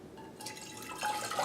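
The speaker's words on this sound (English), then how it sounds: "Okay, so we've got 1 liter of water, and let's pour it in." One liter of water is poured into a pot for a camping stove, starting with a light trickle and building into a fuller, splashing liquid stream that rises in level near the end; nearby and moderately quiet, no speech.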